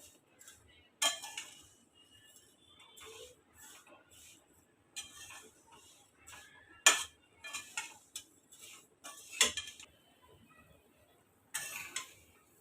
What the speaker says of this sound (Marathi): हे बघा आता आपल्या शेवया कशा छान भाजून झाल्या आहेत खरपूस अशा